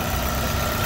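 Chevrolet Corsa at a used-car fair, its engine idling steadily just after starting, a close, even, continuous rumble with no voices.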